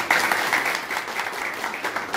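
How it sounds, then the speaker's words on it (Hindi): A classroom group claps in applause for a student during an electronics lesson on SMD components, a dense steady patter of many hands, fairly close and continuous. "वेरी गुड, ताली बजा दो इनके लिए।"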